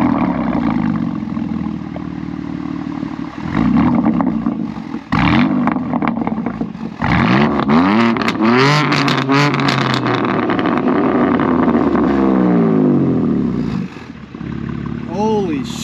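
A 2024 BMW M2 G87 with an aftermarket exhaust revs hard nearby, the engine climbing and falling through repeated loud throttle blips over a steady idle, with people talking at moments.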